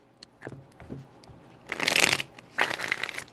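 Tarot cards are shuffled in two quick riffling bursts, close and crisp, after a few soft taps and handling sounds.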